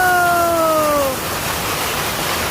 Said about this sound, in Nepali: असिना पानी बब्बाल पानी पर्यो, बब्बाल।